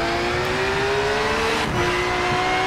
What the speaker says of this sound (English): the car we're driving is the Porsche GT3